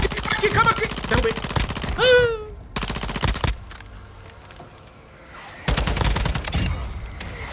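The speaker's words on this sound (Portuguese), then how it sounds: "Errei muitos tiros, mas finalizei." Rapid automatic gunfire in Call of Duty: Warzone 2.0, loud close bursts broken by a short lull, with a player talking excitedly over the shots.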